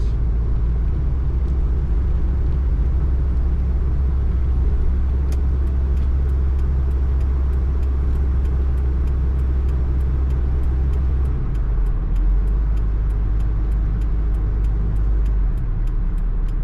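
Interior of a 1983 Toyota pickup truck driving steadily with a loud low engine rumble and road noise, the drone dropping and settling as the truck slows and pulls over.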